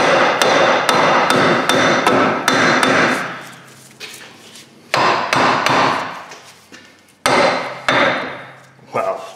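Hammer blows land on the front wheel hub of a Hyundai Santa Fe during a brake and wheel bearing job: a rapid run of sharp, loud metallic strikes, then spaced single hits with ringing decays.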